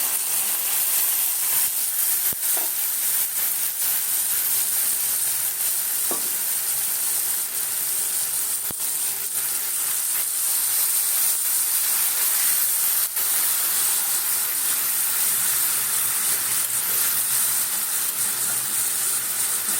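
Spice paste mixed with water sizzles and fries steadily in a pan with onions, a continuous close hiss with faint stirring scrapes, no talking, for a Bengali puti fish tel jhal.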